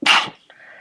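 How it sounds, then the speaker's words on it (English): A single sharp human sneeze from someone suffering spring allergies, close and loud, followed by a brief faint trailing breath. "Sorry, had to sneeze."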